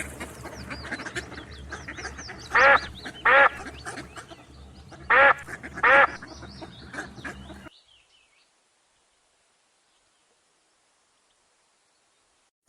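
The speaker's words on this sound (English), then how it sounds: "Gray Duck quacked happily at the sight of her ducklings" Four loud duck quacks in two pairs over a soft bed of background chatter and music, then silence.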